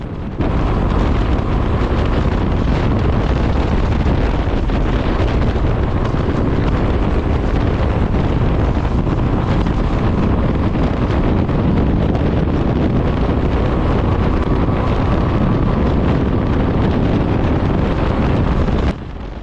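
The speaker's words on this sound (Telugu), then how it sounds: "సో ఎగ్జాస్ట్ నోట్ మీకు వినిపిస్తుంది అనుకుంటున్నాను." Suzuki V-Storm SX 250 adventure motorcycle at speed, close to 127 km/h, its exhaust note a steady loud roar that runs the whole way, heavily buffeted by wind rushing over the microphone.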